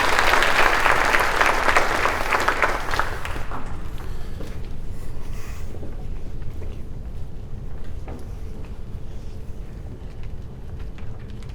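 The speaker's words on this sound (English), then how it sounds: "So let's give him a nice round of applause." An audience claps for a guest speaker at a Parkinson's symposium in Hawaii, loud dense applause for a few seconds that then fades to a quieter room murmur.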